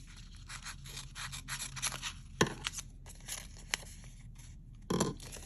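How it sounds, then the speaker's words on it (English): Scissors snip through washi tape at close range, with a few crisp cuts and soft rustling scrapes of tape and paper between them, quiet and sparse with no talk. "And I'm just gonna snip it."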